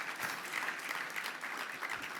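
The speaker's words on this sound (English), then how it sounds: "I wait for your applause on that one." Audience applause at a trade association annual dinner speech: a steady wash of clapping from a crowd, moderately distant and even, lasting a couple of seconds without talk.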